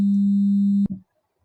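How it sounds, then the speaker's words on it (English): A pure 50 hertz sine test tone, used to demonstrate vibration cycles in a live sound reinforcement lesson, hums steadily and loud for under a second, then cuts off abruptly with a brief thump before silence. "Here's a 50 hertz sine wave, representing 50 vibration cycles per second."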